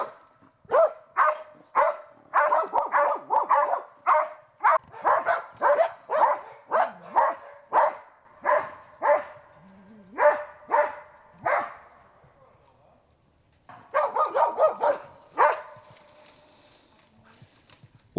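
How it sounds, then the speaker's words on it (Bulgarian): Karelian bear dogs bark at a wild boar during a hunting-dog baying demonstration in a boar enclosure near the village of Dobroslavtsi. The barks are loud, close, rapid and rhythmic, then break off briefly before a fresh burst. "И сега да видим как карелските кучета се справят с облайване на дива свиня."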